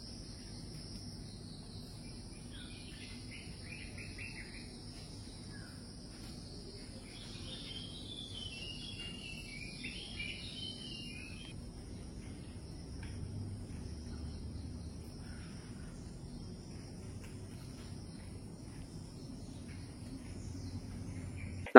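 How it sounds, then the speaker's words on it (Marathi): Dawn in green countryside at a homestay near Karjat, where a steady insect and cricket drone fills the air while a few faint bird chirps and trills rise mid-way, distant and soft. "पहाटेच्या विभिन्न पक्ष्यांचा किलबिलाट तुम्ही ऐकू शकता."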